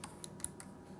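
A handful of light, quick key presses as a value is entered into a graphing calculator's table, faint tapping against a quiet background.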